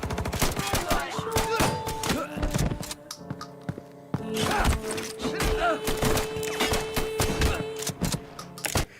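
A5 shotgun fire in Dawn of War 2 cracks out in rapid, irregular bursts of sharp close blasts with metallic clatter, loud and dense, under occasional talk.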